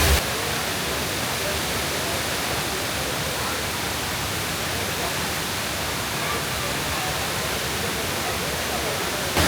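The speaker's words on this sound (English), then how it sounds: "this thing behind me is called the Rain Vortex, the HSBC Rain Vortex" The HSBC Rain Vortex, a huge indoor waterfall at Changi Airport's Jewel, roars as a broad, steady wash of falling water, loud and unbroken from start to finish.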